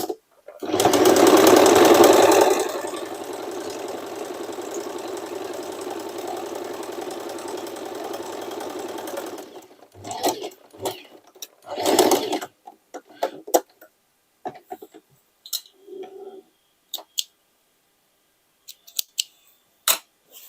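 A sewing machine double stitching a large leather bag runs loud and close for about nine seconds, followed by scattered short bursts of stitching, handling clicks and scissor-like snips.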